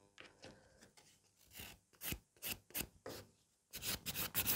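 Short rasping strokes of a file on a fiber gel coffin-shaped nail, quiet and close, coming in irregular bursts with pauses between them.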